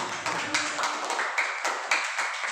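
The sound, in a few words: audience applause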